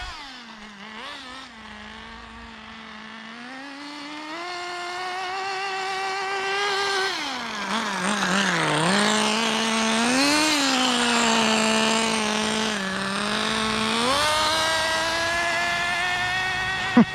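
A Kyosho Ford RS500 radio-controlled car held at full throttle, its small electric motor whining in a steady, loud high pitch that dips and climbs several times, heard up close and alone.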